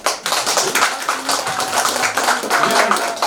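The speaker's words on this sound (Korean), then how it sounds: "서로 만나서 반갑습니다 하는 의미에서 박수 한 번 좀" A crowd of alumni claps together at a Korean gathering, dense continuous applause filling the room, loud and steady for several seconds.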